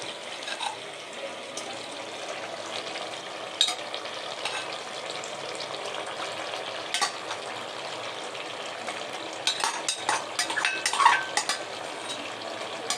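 Spinach added to potatoes and masala frying in a pan, a steady sizzle with stirring and scraping, utensil clinks and a few sharper crackles, heard close and without talk.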